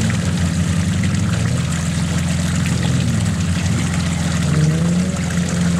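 A stuck Ford Ranger's engine drones steadily while its tire spins and churns in slick ground, a continuous loud low rumble with a rising whine near the end.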